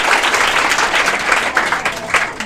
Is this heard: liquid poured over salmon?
no